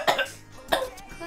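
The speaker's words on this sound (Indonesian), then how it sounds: "Kok kayak pada batuk-batuk?" Two sharp coughs, each a brief burst, come close together, separated by a short pause, with faint voices around.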